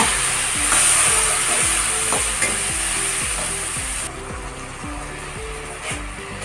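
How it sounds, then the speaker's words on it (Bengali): A spice paste of garlic, dried red chili and green chili with a splash of water fries in a pan, with a continuous sizzle and a steady, rhythmic scraping stir repeating about once per second, close and clear. "কাঁচা লঙ্কা বাটা দিলাম একটু অল্প একটু জল দিয়ে কষে নেব মশলাটাকে ভালো করে"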